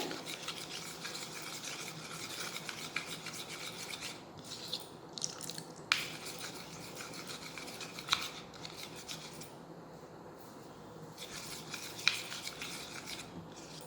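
Flax seed paste being stirred together with water, a quiet continuous scraping and rubbing with a few sharper clicks of the utensil, close and alone with no talking.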